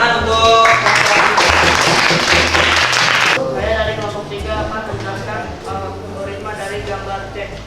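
A class claps after a student's presentation, a loud burst of applause for the first few seconds that stops abruptly, followed by quieter sounds with a voice and faint background noise.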